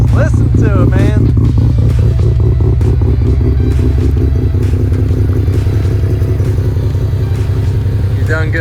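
A car engine runs loud and close on a road with a steady, deep rumbling drone and some clatter, while a person exclaims briefly near the start.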